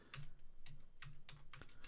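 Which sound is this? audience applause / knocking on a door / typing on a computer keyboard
typing on a computer keyboard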